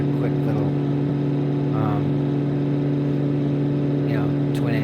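Steady drone of a Cessna 414 twin-engine propeller plane in flight, loud and constant with strong low tonal hum, while faint voices murmur in the cabin.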